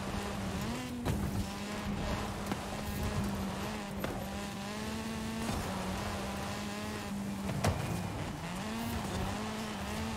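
A car racing in Forza Horizon 5, its engine holding a steady droning tone with small pitch swings and brief surges, tire noise and bumps running underneath, continuous and close.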